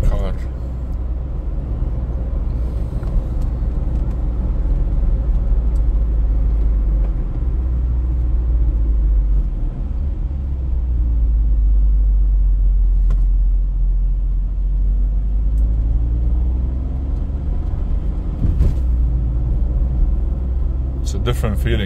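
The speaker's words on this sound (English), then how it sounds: "Different feeling when you drive this car than driving other cars." Steady engine rumble and road drone inside the cabin of a small smart car, running in sport mode on an open road, holding a constant level for over twenty seconds with faint passing noises.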